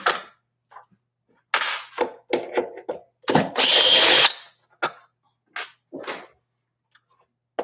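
A cordless power drill drives screws while a Celestion Greenback guitar speaker is fitted into a cabinet, heard as several short whirring bursts of varying length, with one longer, louder run in the middle, separated by silent pauses.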